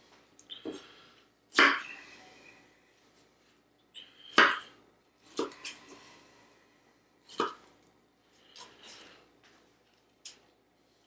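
A knife chops through strawberries on a cutting board for a fruit salad, several separate crisp cuts spaced irregularly, close and clear, with quiet gaps between them and no talking.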